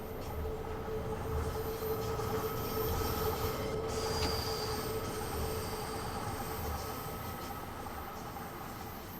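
London Underground Bakerloo Line train braking on the approach to Charing Cross in Train Sim World 3, a steady loud rumble of wheels with a sustained brake squeal and whine throughout, no talking.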